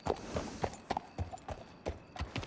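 Horse hooves clip-clop in a steady walking rhythm in a Wild West video game, the hoofbeats fairly close and moderately loud over faint background ambience, with no talking.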